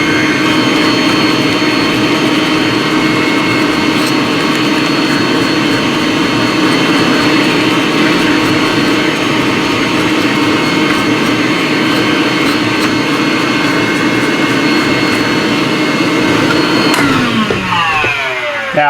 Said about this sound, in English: So I have my little shop vac that I keep here in the shop just for this, and I'm going to turn it on.